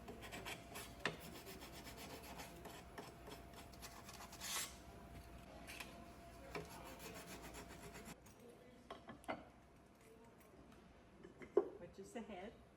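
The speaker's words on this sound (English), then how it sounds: "I'm starting out by cleaning off any wood shavings or chips in the wood" Wood pieces for washboards being brushed clean of shavings and chips in a small factory, with faint intermittent rubbing and scraping strokes at low level.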